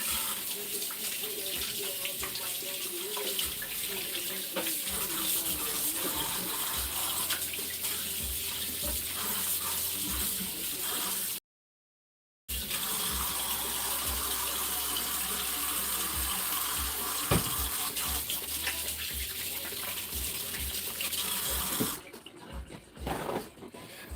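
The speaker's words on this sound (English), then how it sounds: "Let me go wash my hands real quick." Tap water runs steadily from a faucet into a sink during handwashing, a continuous close splashing gush that fills nearly the whole stretch, broken by one brief cut and tapering off at the end.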